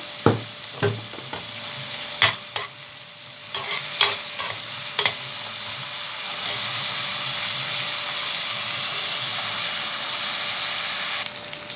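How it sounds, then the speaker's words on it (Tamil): Sliced onions sautéing in a hot pan: a few sharp utensil knocks and scrapes from stirring at first, then a steady, close sizzle and hiss of frying that carries on alone. "வெங்காயம் அரிஞ்சு வச்சுருக்கேன் இந்த ரெண்டு ரம்பையிலையும் இலையும் அதில் நான் சேர்த்திடுறேன் கொஞ்சம் வதங்கி வரட்டும்"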